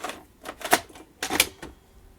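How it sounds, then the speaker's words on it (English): Vintage National NV-3000 VCR loading a tape, a series of loud close mechanical clunks and clicks arriving in two clusters, no talking. "Let's chuck a tape in and see what happens."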